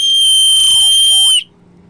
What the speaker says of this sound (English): that was a get down to fucking business whistle